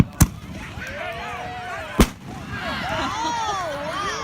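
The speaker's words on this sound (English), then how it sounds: "images of fireworks being set off over Lewis Bay, part of the town of Barnstable's annual 4th of July Independence Day celebration" Fireworks burst over Lewis Bay at an annual Fourth of July Independence Day celebration, two sharp loud booms a couple of seconds apart followed by crackling and a distant crowd murmur.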